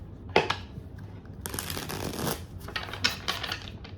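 A tarot deck riffled and shuffled by hand, close up, in a few short bursts of rapid card flutter with brief pauses between.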